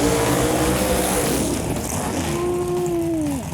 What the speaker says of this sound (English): Watch a little RX-7 burnout.